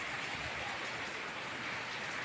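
Steady rain pouring down during a storm, a dense continuous hiss with no gaps, moderately loud and without voices.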